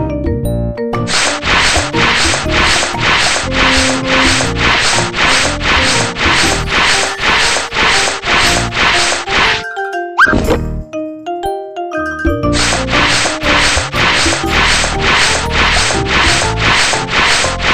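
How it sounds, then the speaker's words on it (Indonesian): Rhythmic rasping strokes of sandpaper on wood in a children's video game, loud and close, repeating quickly, broken midway by a short musical chime before the sanding resumes. "Gunakan amplas untuk menghaluskan kayu yang kasar."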